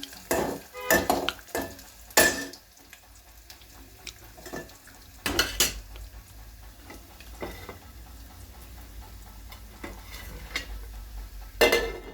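A spoon scrapes and clacks against a pan while egg curry masala is stirred, giving loud irregular knocks and scrapes over a faint low sizzle, with quieter stretches between strokes.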